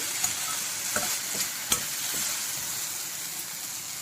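Tomatoes softening in a pan for a restaurant-style raw cashew and mushroom curry, giving a steady soft sizzle with a few light clicks of a spoon stirring, close and alone with no talk.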